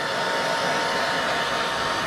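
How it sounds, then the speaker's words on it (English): A hair dryer blowing hot air onto freshly sprayed pearl stencil paint, a loud, steady, close-up whooshing roar with no breaks. "all I use is just a hair dryer"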